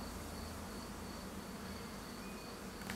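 A dense, steady buzz of about 12,000 honeybees fills the whole stretch, a continuous swarm-like hum with no speech, close and even in loudness.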